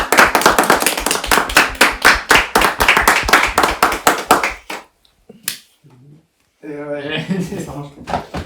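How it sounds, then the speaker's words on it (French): A film crew on a fight-scene shoot claps for the actor Anthony Alcantara with a burst of close, rhythmic hand claps. The clapping stops abruptly, a few knocks follow, and then a person speaks. "j'aimerais un tonnerre d'applaudissements pour Anthony Alcantara"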